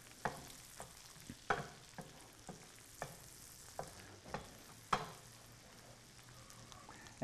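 Garlic and onion frying in a pan under a soft sizzle, with a spoon or spatula scraping and knocking in a loose, repeated rhythm of about a dozen strokes, no talking.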